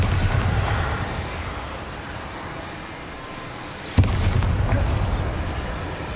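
A Bombarda spell blasts apart a barricade in Hogwarts Legacy, one sudden sharp explosive crack followed by crumbling debris over a low rumbling backdrop.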